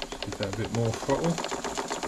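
Rhythmic mechanical chatter from a model RC boat's steam engine opened up to higher throttle, a fast, even beat running steadily under someone talking close by.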